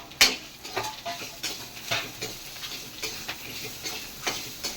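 Urad dal, dried chilies, tamarind and garlic with a little salt are sautéed together in a pan, with a faint sizzle under a steady run of light spatula scrapes and clinks repeating about once or twice a second. No one speaks.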